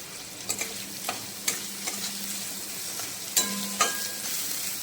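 Spice masala with a little tomato and salt being fried in a pan, a steady sizzle broken by several sharp scraping stirs, close and fairly quiet, with no one speaking.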